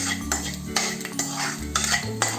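Whole spices including fennel seeds dry-roasted in a kadhai, with a metal spoon scraping and clinking against the pan in repeated stirring strokes, close and fairly quiet, no voices.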